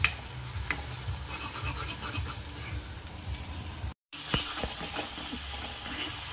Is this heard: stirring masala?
yes